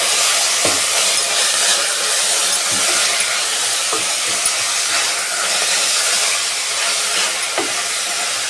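Coriander and mint frying in ghee for ghee rice: a loud, continuous, airy hiss with occasional soft knocks from stirring scattered throughout.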